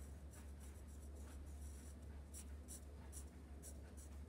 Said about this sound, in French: Et tu peux décorer, colorier un peu.